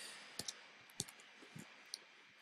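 Typing on a computer keyboard to enter a buy price, heard as a few sparse, close keystroke clicks spread irregularly over a quiet background.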